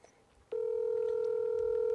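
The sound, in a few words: telephone dialing a call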